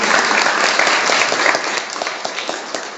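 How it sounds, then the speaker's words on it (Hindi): Steady applause from a crowd at a college NSS camp in India, dense continuous clapping that holds for the whole stretch and thins a little toward the end. "तो एक बार तालियां बजाइए पीताम्बर सिन्हा सर के लिए"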